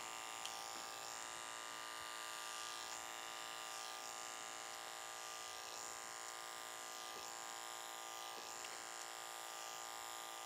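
Electric hair clipper tapering the back of the neck during a classic pompadour haircut, a steady high-pitched motor buzz running continuously with faint periodic changes as the blade passes through the hair.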